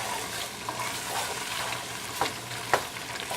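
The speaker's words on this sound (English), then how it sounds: "And we'll stir that up." Peppers and seasoning sizzle steadily in a pan for a macaroni and cheese dish while being stirred, with a couple of soft scraping strokes rising above the constant frying hiss.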